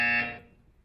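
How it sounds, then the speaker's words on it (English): A single short electronic buzz from the Portal 2 game sounds, then quickly decays into silence. "You will hear a buzzer."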